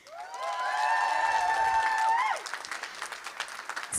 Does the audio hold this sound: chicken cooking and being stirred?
no